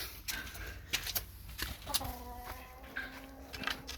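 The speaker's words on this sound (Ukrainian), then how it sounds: "пенсіонерки, курки тут лежать собі, щось клюють" Chickens cluck and murmur in short bursts nearby, with a few sharper calls and scattered rustling against a quiet outdoor background.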